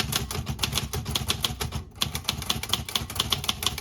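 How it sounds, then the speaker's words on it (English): An Olivetti Lettera 32 manual typewriter typing in pica type, with rapid close keystrikes in an uneven rhythm, a brief pause near the middle, then the clacking resumes. "Here's a typing sample from my Olivetti Lettera 32."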